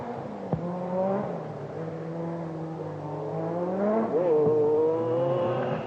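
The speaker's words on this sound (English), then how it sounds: "arold Demuth, the 36-year-old German driver, may only have 170 horsepower in his Audi, but his determination gave him his 8th fastest time here" A 1986 Audi rally car of about 170 horsepower drives a forest stage on the Lombard RAC Rally, its engine holding a steady drone that rises and falls with gear changes.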